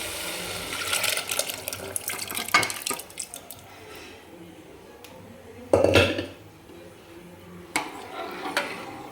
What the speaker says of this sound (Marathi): तर आपण आता याच्यामध्ये जे डाळ आणि बटाटा आपण शिजवून घेतलं होतं ते टाकून घेऊ.